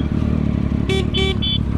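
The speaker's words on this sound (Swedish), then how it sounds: "Det är för jävla att tuta igen!" Car horn honks in three short blasts, two longer and one brief, over a steady rumbling engine idle on a Malmö street, fairly loud and close.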